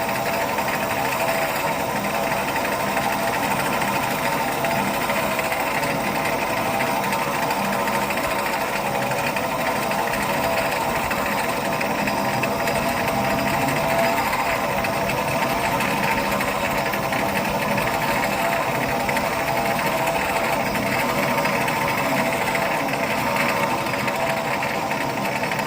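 A lathe drilling with the drill held in the tailstock, a steady, loud mechanical whir and rattle that runs without a break for the whole stretch.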